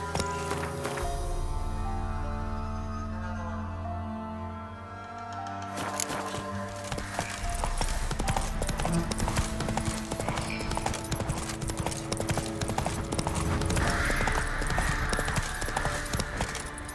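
Roach, the horse in The Witcher 3, galloping: rapid, steady hoofbeats thud throughout over a swelling game music score, with a brief word of speech mixed in.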